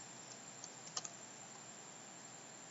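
Light keyboard typing on a computer, a few faint clicks clustered together over a steady background hiss, with no talk.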